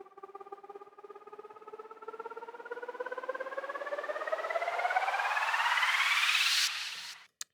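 A digital wavetable guitar-harmonics synth patch pulses rapidly under an LFO on its level while its pitch rises steadily upward, growing brighter and louder before stopping abruptly.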